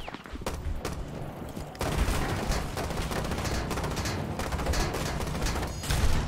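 PDW gunfire in Rainbow Six Siege: loud, dense rapid bursts of automatic fire and layered shots, nearly continuous for several seconds with brief gaps, close and dominant.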